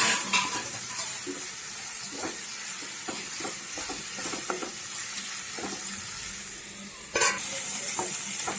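A chicken pidi peralan masala is stirred with mint and coriander leaves. Repeated scraping spoon strokes run over a steady sizzle, and a louder clatter comes near the end.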